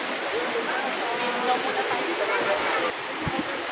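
A waterfall at Villa Escudero pours in a steady, loud broadband roar that fills the whole stretch, with faint voices murmuring underneath.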